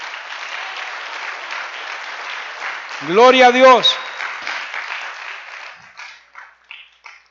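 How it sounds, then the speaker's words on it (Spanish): A church congregation applauds in a continuous wash of clapping, with a loud voice rising over it midway before the clapping thins into scattered claps. "Dele un aplauso al Rey."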